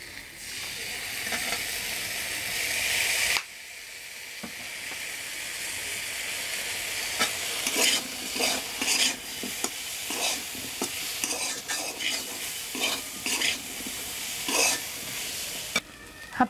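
Vegetables for a vegetable biryani fry with ground spices while being stirred, giving a continuous hissing sizzle broken by repeated scraping strokes of a spoon against the pan, close and fairly loud.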